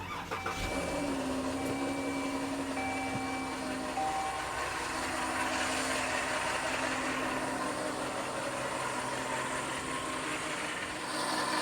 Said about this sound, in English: If you guys can hear that awful noise coming from this area of the vehicle, that means one of the pulleys is going bad.